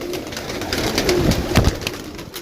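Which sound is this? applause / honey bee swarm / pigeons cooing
pigeons cooing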